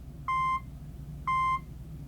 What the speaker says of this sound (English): you can hear that's actually the beep coming from the watch.